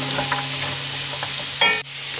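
Vegetables stir-frying in a wok as carrots are tossed in, a steady loud sizzle with scraping stirs and a brief louder burst near the end.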